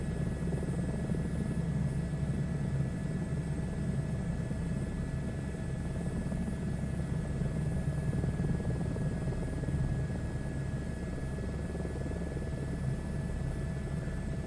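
A helicopter in a flight simulator game gives a steady, continuous rotor and engine drone with a constant hum, holding an even level for the whole stretch, with no talk over it.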